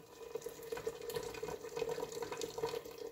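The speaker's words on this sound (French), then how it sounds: "J'ai rajouté l'équivalent d'1 litre d'eau sur l'oignon que j'avais caramélisé avec le beurre." Hot water poured onto caramelised onion and butter in a pot for a pumpkin soup, a quiet, continuous burbling splash of liquid with a faint bubbling hiss, close and alone.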